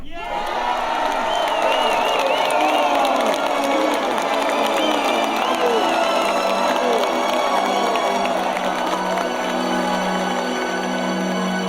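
An agitated crowd of people seeking healing shouts and clamors loudly together, a sustained din of many voices with raised cries and whoops that stays strong throughout.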